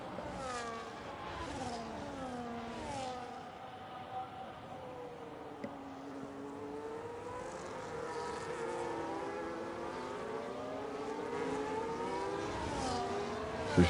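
F1 race cars at the Qatar circuit in a racing video game, their high engine whines rising and falling continuously, several cars layered together at a steady moderate level.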